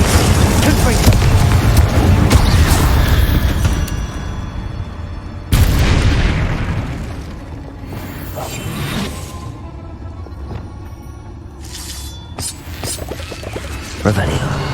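The Confringo explosive spell in the video game Hogwarts Legacy lands as heavy booming blasts with crashing bursts, a loud sharp hit midway and another near the end, amid dense rumbling game effects.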